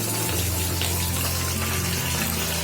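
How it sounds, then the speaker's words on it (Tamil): Onion peel fertilizer liquid is poured and strained into a clean vessel, giving a close, continuous gushing splash of water that runs without a break. "இப்போ நம்ம ஈஸியா வடிகட்டிடலாங்க."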